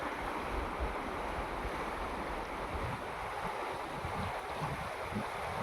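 Water of the Gaula river rushes steadily along an eroding bank, a continuous broadband roar of flow with wind noise, no speech.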